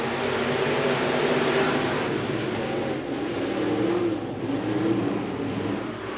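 Sportmod and hobby stock race cars roaring off turn four at the green-flag start of a dirt track race at Eagle Raceway, a loud, steady wall of engine noise that swells and holds with overlapping revving motors.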